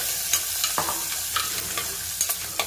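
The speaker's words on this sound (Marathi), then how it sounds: "लसूण ऍड करते, खूप सारा लसूण सुद्धा ब्राऊन होईपर्यंत तुम्हाला परतून घ्यायचंय" Lots of garlic with green chilli frying in oil until brown for dal khichdi, a close steady sizzle punctuated by regular spoon scrapes and light clicks against the pan.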